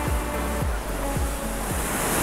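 Sea waves breaking on a Costa Brava beach beside a campsite in a nature reserve, a steady close wash of surf with several rolling swells, loud and continuous with no voices.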